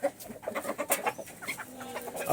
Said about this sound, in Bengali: বিশ্বের সবচেয়ে ছোট মুরগি হচ্ছে শার্মা